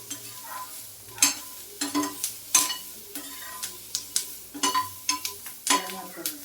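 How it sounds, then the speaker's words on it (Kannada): Onions fried over medium heat for an onion capsicum gravy, with a soft sizzle under rhythmic, closely miked spatula scrapes and taps against the pan. "ಮಧ್ಯಮ ಉರಿಯಲ್ಲಿ ಇಟ್ಕೊಂಡು ಫ್ರೈ ಮಾಡಿ."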